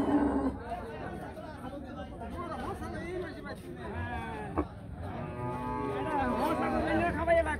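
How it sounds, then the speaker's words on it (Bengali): Cattle at a busy cattle market in Comilla district, a small meat cow among them, low moos and lowing rising over a steady hubbub of nearby voices and crowd chatter. "আমরা একটি ছোট সাইজের মাংসের গরু দেখাচ্ছি আপনাদেরকে"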